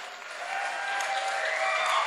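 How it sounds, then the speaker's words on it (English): Audience applause at an Ignite San Diego event, a dense steady wash of clapping from a large crowd that builds slightly over two seconds, heard alone without talk. "Can I get a big round of applause?"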